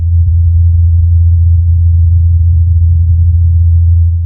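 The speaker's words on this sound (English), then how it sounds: "This is the sound of a helicopter flying on Mars." Small helicopter flying on Mars, captured by the rover's microphone: a steady, low droning hum that holds constant and fairly loud throughout with no other sounds.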